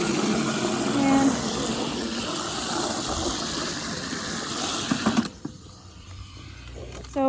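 Water running into barn water buckets, a steady hissing gush that carries on for about five seconds, then cuts off abruptly, leaving a quieter hum.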